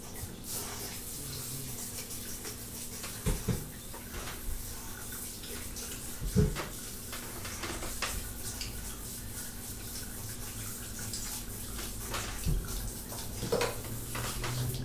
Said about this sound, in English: So we're going to go ahead and rinse the potatoes.